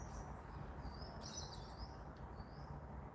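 Lorikeets call faintly in the distance with thin, high chirps and squeaks over a steady outdoor background hiss.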